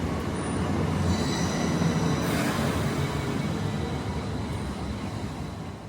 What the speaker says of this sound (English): here's our train to Bradford